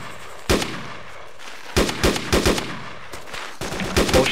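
Automatic gunfire in a video game, close and loud bursts: a single shot, then a rapid string of several rounds, a pause, and another quick burst, with brief echoing tails.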